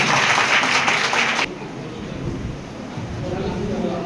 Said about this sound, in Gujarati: તાળી પાડીને આપણે સ્વાગત કરવાનો છે